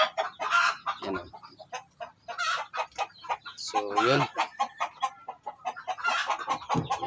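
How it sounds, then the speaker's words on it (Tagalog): A brooding hen clucks repeatedly in short, low bursts close by, while a person speaks briefly in between. "Yan na yung ating naglilimlim na manok."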